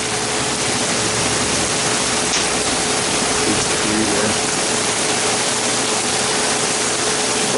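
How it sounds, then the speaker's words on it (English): Steady, dense rainfall pours down without a break, a continuous heavy hiss filling the air from start to finish. "But the rain's coming down pretty good."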